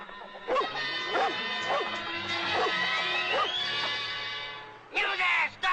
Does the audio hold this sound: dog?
yes